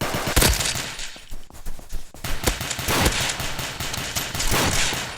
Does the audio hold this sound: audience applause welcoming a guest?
no